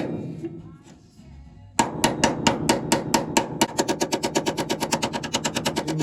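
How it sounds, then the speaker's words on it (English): A hammer strikes a steel Ford Cortina body panel during A-pillar repair, a rapid, sharp series of ringing metallic taps that speeds into a dense, even rhythm, close and loud after a brief quieter lead-in. "That's just with pressure and a little tap of the hammer."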